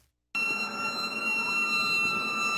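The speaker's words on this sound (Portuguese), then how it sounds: "Ambulância, polícia, bombeiros, SAMU, helicóptero e várias vítimas." Emergency vehicle sirens sound at a staged emergency simulation of a bus crash involving ambulances, police and firefighters: a loud, steady wailing tone that cuts in abruptly after a moment of silence and holds throughout.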